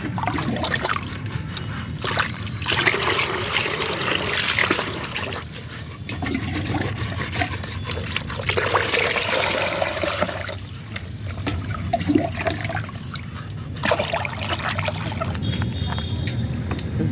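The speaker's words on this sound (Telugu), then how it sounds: "దీంట్లో వాటర్ పోసేసి" Water is poured into a bucket while mixing liquid fertilizer for a hibiscus plant, a continuous close gushing and splashing that swells and eases over several pours, with no talking.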